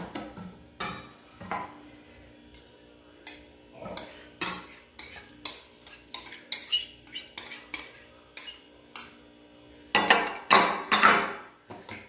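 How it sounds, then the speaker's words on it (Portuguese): A wire whisk beats yogurt cake batter in a bowl, clinking and clattering against the sides in a steady, repeated stroke rhythm, growing busier and louder toward the end. "Tá vendo como o fouet ajuda a misturar mais fácil?"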